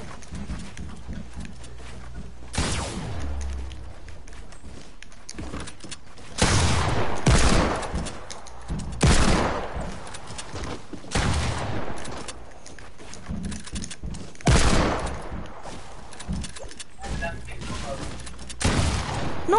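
Gunfire in a shooting video game comes in repeated loud bursts and blasts, some of them shotgun fire, spread across the stretch with quieter gaps between them.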